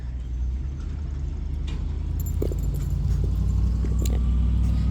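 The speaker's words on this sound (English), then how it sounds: "You can hear all the trucks behind me" Heavy trucks and cars rumble along a road behind the spot, a steady low drone of traffic with a few passing knocks and rattles, continuous throughout.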